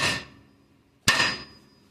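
A hammer strikes an old Holden steering arm twice, a second apart, each blow a sharp, close metallic ring that fades away, with no talk.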